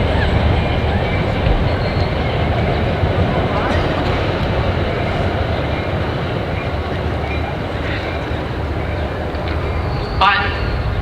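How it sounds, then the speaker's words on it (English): Train rumbling past near an outdoor high school graduation ceremony, a loud steady rolling roar sustained throughout, with faint squeals toward the end. "We'll continue to wait for the train"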